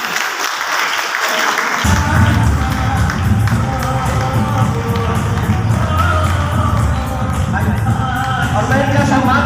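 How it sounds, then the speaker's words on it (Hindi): Loud, sustained applause from an audience at a motivational stage event, starting abruptly after a brief quiet moment and continuing dense and steady, with crowd noise and some voices mixed in. "जोरदार तालियां।"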